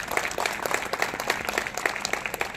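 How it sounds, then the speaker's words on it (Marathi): An audience at a live educational seminar gives sustained applause, with many hands clapping in a dense, steady patter that fills the room from start to finish. "एक जोरदार टाळी व्हायला पाहिजे"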